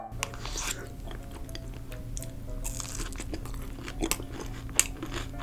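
Crunchy fried shrimp tempura bitten and chewed up close, crisp crackling crunches repeating in an uneven rhythm, loud and alone with no talk.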